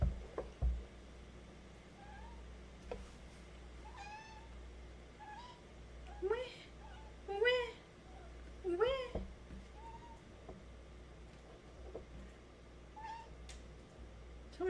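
A cat gives soft, squeaky little meows, several short quiet calls spread over a low steady background hum, with a person talking quietly in places.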